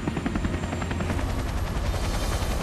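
Bristow Flight 56C helicopter flying, its rotor producing a loud, steady, rapid thudding over a continuous engine roar, close and unbroken, with no voices.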